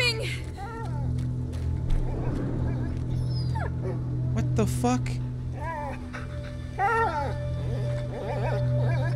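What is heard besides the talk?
dying dog whimpering in video game A Plague Tale: Innocence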